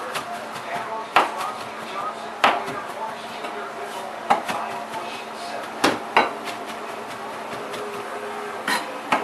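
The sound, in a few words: chopping parsley on a cutting board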